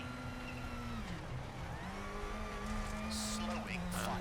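Citroen rally car engine in the racing game EA WRC on a Monte Carlo stage, a steady mid-pitched drone that rises and falls through gear changes, with someone talking over it.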